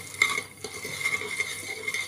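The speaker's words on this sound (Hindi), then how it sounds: "अब इन्हें फटाफट एक बर्तन में निकाल लेंगे हम" Freshly popped popcorn being quickly scooped out of a hot pan on a gas stove into a bowl, with scraping, stirring and light rattling clatter, close and continuous.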